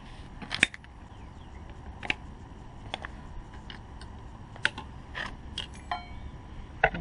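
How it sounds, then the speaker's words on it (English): Needle-nose pliers pulling small retainer pins from a Toyota Tacoma U-joint, faint scattered metallic ticks and clicks at an irregular pace, near and quiet, without talk. "I'm going to take these little retainer pins out. Hopefully some needle nose will work on these."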